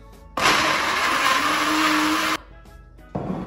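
Kitchen blender whirring loudly as it purées garlic with a little water, a harsh steady motor roar running for about two seconds, then cutting off before a brief restart.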